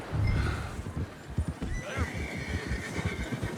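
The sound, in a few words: horse whinnying and hooves in the video game Red Dead Redemption 2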